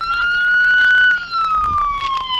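A police siren wails close by, its pitch sweeping up and down continuously over the whole stretch.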